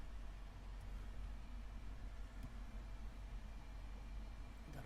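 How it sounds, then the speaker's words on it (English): Steady low road rumble from a couple of cars passing near a parked 2009 Lexus GX470, a broad continuous wash of tire and engine noise holding even for several seconds with no talk. "Got a couple cars passing us"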